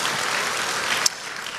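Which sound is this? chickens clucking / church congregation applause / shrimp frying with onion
church congregation applause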